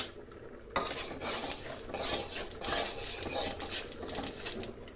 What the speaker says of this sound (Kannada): ಎಳ್ಳನ್ನು ಹಾಕ್ಕೊಂಡು ಹುರಿದಿಟ್ಕೊಳ್ಳೋಣ.